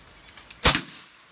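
A single gunshot from a .30 caliber (7.62) air rifle firing a light pellet outdoors, a sharp close crack followed by a short tail, with a few faint clicks just before it.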